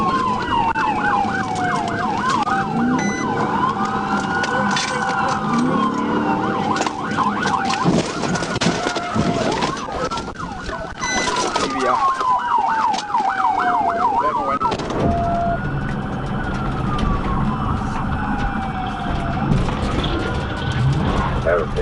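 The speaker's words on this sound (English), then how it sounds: "So the siren comes on" A police siren wails and yelps repeatedly, sweeping up and down in pitch over steady road noise, sustained and fairly close throughout.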